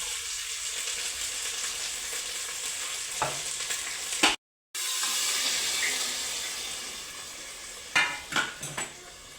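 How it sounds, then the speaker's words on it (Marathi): Spice masala sizzles and fries in oil in a pan with sprouted moth beans, a steady bright hiss with stirring, a short dropout midway and a few clattering utensil knocks near the end. "हा सगळा मसाला आपल्याला त्यात टाकून द्यायचा आहे आता"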